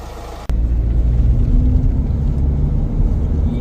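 A Mahindra Marazzo, just serviced for a low-pickup fault, pulls away on a test drive with a sudden lurch. A steady, loud low engine and road rumble follows, heard from inside the car with no talk.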